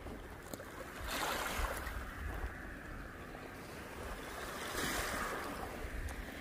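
Surf washing along a Canadian beach where agates are hunted, a steady broadband wash that swells twice as waves roll in, with wind noise and no voices.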